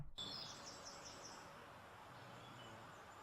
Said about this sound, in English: Listen to the birds tweeting.